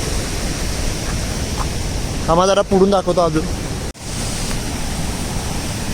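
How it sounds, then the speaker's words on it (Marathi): Water running off a mountain pours at a hidden waterfall near a village after the rains, making a steady, loud, broadband rush that continues while someone speaks briefly in the middle. "हे बघा पूर्ण डोंगराचं पाणी येते इकडे"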